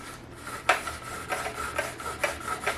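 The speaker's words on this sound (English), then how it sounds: "we're going to put it in this little piece of sandpaper, clean up the edges" Small piece of sandpaper rubbed along the edges of an arrow, a series of short rasping strokes at an even pace, close and moderately quiet, with no voices.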